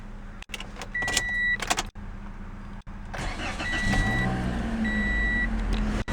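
A 2017 Toyota Corolla is started, with a few clicks and brief whirring before the engine catches and settles into a smooth, quiet idle, heard close by with no talk.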